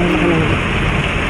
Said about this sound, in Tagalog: Kanina pa po walang tigil ang ulan ma'am.